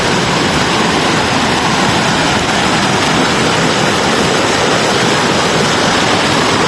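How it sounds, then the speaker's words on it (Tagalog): A creek's rushing water pours steadily after rain, a loud, dense broadband roar filling the whole stretch without pause, close and with no voices over it. "Lumakas na rin yung tubig dito sa sapa."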